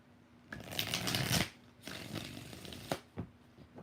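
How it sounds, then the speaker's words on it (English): Tarot cards riffling and shuffling in close, loud bursts, followed by a few sharp taps as the deck is squared. "Let's give 5 shuffles for Monica."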